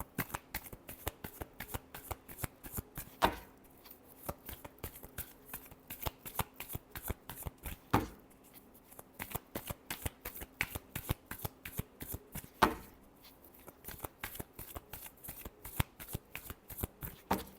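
Tarot cards are shuffled close by in quiet, rapid riffles of crisp flicking that repeat steadily, with a few short pauses and slaps between rounds and no voices.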